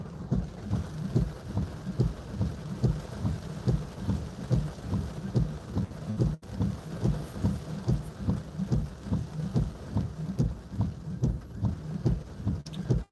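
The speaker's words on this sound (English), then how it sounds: "Rain does sound like it's picking up." Heavy rain from Hurricane Idalia in Perry, Florida, a steady dense wash of rainfall with gusty pulsing surges, continuous and fairly loud with no talking.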